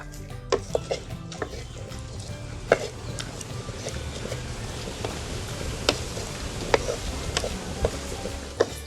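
Grated coconut dry-roasts in a pan while a spatula stirs and scrapes it, giving steady soft rustling with frequent sharp metallic clinks throughout.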